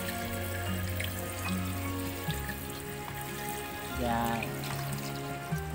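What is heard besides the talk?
pouring a pitcher of water into the pot for chicken tinola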